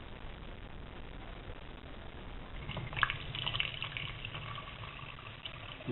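Liquid trickling and splashing through a plastic funnel into an Aromire flask while bottling, a quiet steady pour that grows louder and more broken about halfway through, close to the listener.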